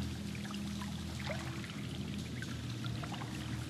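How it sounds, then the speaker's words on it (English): A water wheel in the horror game Until Dawn splashes and pours in a steady, moderately faint stream of trickling water with no talking. "I don't know what this water wheel is."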